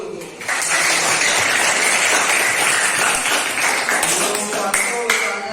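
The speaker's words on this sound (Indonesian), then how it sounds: "Tepuk tangan dulu tuh." Students in a classroom break into loud, dense applause that starts abruptly and holds steady for several seconds, then tapers off with a few scattered claps near the end.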